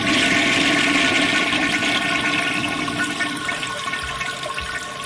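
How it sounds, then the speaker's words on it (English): A loud, rushing toilet flush in a flight simulator game's business jet cabin roars steadily, then slowly tapers off as the water drains. "Never heard a toilet that loud."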